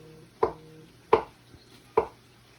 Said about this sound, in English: I'm cutting a little too deep. You shouldn't hear the knife.